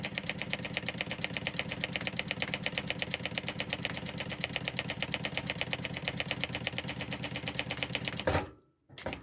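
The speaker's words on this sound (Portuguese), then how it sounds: "Agora eu venho pro lado e ando um ponto só e vou descer costurando o outro lado do meu" A sewing machine stitches down the side of a bag in a fast, even run of close rhythmic clatter. It stops abruptly near the end and is followed by a short quiet.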